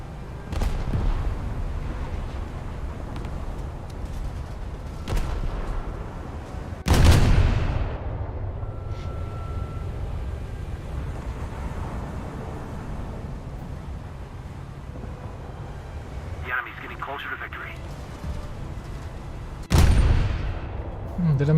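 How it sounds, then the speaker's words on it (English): Explosions and gunfire ring out in a naval battle in a video game, with loud booming blasts near the start, around the middle and again toward the end over a steady rumbling background. "Did I make something explode, or was it that aircraft that bombed him?"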